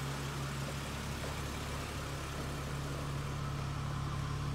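A 2005 Chrysler Crossfire Sport Coupe engine running, a steady low idle hum with a constant tone, heard up close and unbroken throughout.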